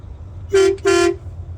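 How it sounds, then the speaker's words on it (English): A vintage RV's horn gives two short honks in quick succession, loud and close, over a low idling engine rumble. "Oh, do we got a horn? Right there."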